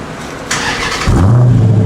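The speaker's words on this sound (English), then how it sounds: "Oh yeah, now it sounds like a performance car." A Dodge Challenger SRT8 with a Heartthrob performance exhaust fires up and settles into a deep, throaty idle with a low, rumbling exhaust note, loud and close.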